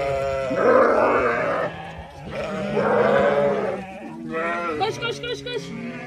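Sheep and lambs bleat loudly and close by on a mountain farm, three long calls in a row with grunting and a breathy, wavering finish.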